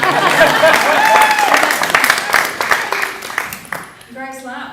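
Audience at an art and design panel talk clapping, a fairly close burst of applause that tapers off over a few seconds before a voice starts speaking.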